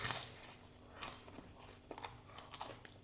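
Crisp crunching bites of lángos, fried dough cooked in olive oil, several sharp crackly bursts with chewing in between, close and fairly quiet.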